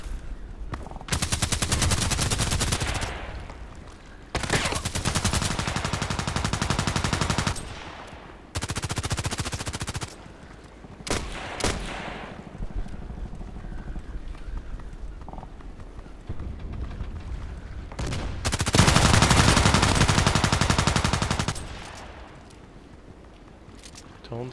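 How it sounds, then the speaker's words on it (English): Pump shotgun fire from an MP-133 in the shooter game Contract Wars, heard as loud broadband blasts in several dense bursts separated by quieter gaps, with a voice briefly talking. "The old shotgun."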